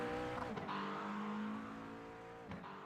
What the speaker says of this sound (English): And you hear them downshifts there out of that McLaren